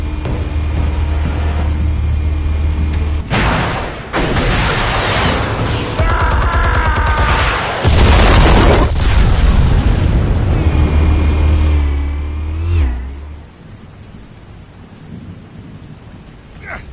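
Explosives detonating in a Batman Telltale video game scene, heavy booming blasts and rumbling with crackling debris, loud and close, several bursts rolling over each other before fading into a quieter tail.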